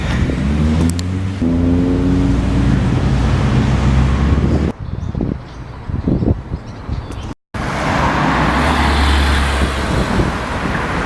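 A Nissan GT-R's exhaust note rises briefly in a strong tonal burst, then is swamped by heavy wind buffeting on the microphone and roadside rumble, with a short dropout partway through.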